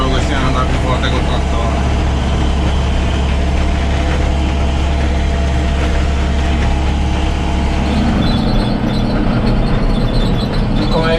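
A tractor working a Krone mower in an alfalfa field gives a loud, steady engine drone with a constant low rumble, while someone talks over it throughout.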